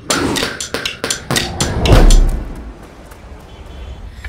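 Hammer blows striking metal while forging gold, a quick series of sharp, close clanks in uneven rhythm, followed by a heavier thud and a fading resonant hum.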